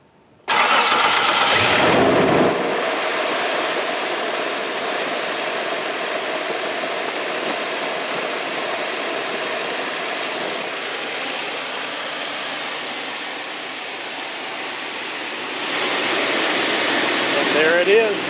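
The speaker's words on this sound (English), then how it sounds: "Let's go ahead and get a close-up of a cold start." A 2006 Toyota Tundra truck engine cold-starts, cranking and catching with a loud burst, then settles into a steady rumbling idle before revving up briefly near the end.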